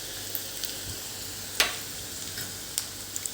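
Finely chopped onion and garlic-chili paste fry in oil over a low gas flame, giving a soft, steady sizzle with occasional faint crackles and pops.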